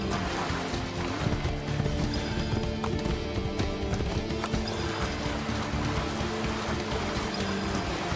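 Horse hooves gallop through Venice in the video game Assassin's Creed II, a fast, continuous clip-clop that stays loud and close with a faint whinny mixed into the busy ambience.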